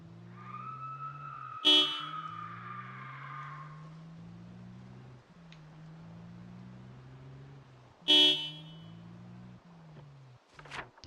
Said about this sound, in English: Truck horn is loud AF.